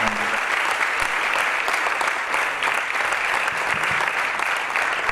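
A large audience claps loudly and continuously to welcome a pastor onto a stage at a Christian gathering, with dense, even applause and no break.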